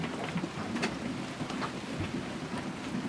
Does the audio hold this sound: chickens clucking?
no